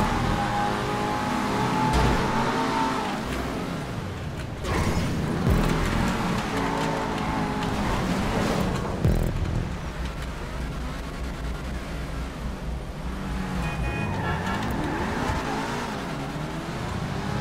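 Cars race in GTA 5 Online during a stunt race, with engines revving and roaring continuously as they rise and fall in pitch, vehicles sweeping past, and a short tire squeal.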